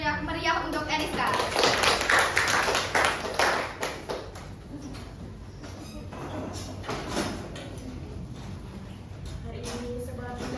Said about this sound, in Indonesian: Tepuk tangan yang meriah untuk Eriska.